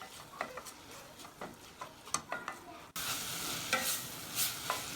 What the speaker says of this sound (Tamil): கருவேப்பிலையும் சேர்த்து நம்ம வந்து உப்பு போட்டு வதக்கி விட்டுடலாம்